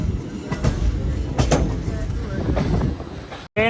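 A crowded passenger train heading to the Maha Kumbh Mela in 2025 rumbles along steadily, with rhythmic clatter from inside the carriage and a voice talking over it.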